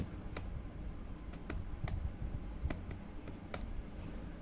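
Data typed on a computer keyboard into an Excel spreadsheet, a handful of sharp, separate key clicks at an uneven pace, close and fairly clear over faint room hiss, no voice.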